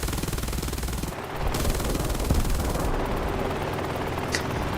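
Aircraft machine guns strafing in War Thunder, sustained rapid loud fire with dense bursts over a constant engine drone, briefly interrupted and then resuming.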